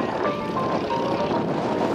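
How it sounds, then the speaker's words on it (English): A Stearman PT-17 biplane engine drones through air show aerobatics, a steady, rough radial-engine hum heard at a distance under light crowd noise. "Listen to the engine."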